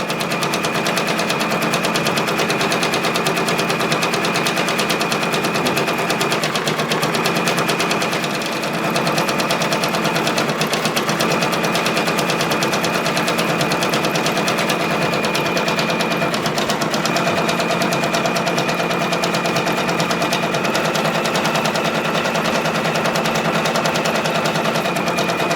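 An embroidery machine stitches a design with a loud, unbroken rapid mechanical rattle that holds steady throughout, nearby and with no voices.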